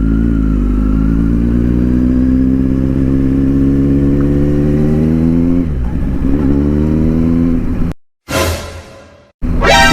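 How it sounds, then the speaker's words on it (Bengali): A Kawasaki Ninja Z900 superbike pulls away and accelerates, its engine tone rising steadily and loud up close, then dipping as the rider shifts gears, with a couple of abrupt gaps near the end. "first time super bike চালালাম guys"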